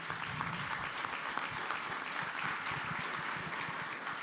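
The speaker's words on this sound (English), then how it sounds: "let's give them a round of applause" Sustained audience applause for the runner-up at an award and winner announcement, a steady dense wash of many hands clapping at moderate level throughout, with no speech over it.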